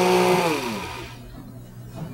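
A blender pulses crepe batter in a short loud whir that winds down quickly, its motor pitch falling away to near quiet, heard close up.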